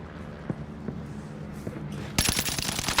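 Gunfire in the video game Warzone: a sudden loud burst of rapid automatic shots after a quieter stretch with a few scattered distant pops, continuing to the end.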